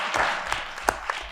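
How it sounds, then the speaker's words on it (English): A Ludlow town meeting crowd gives a brief, sparse round of clapping for two state senators, a handful of distinct claps over a quiet room. "You can clap it."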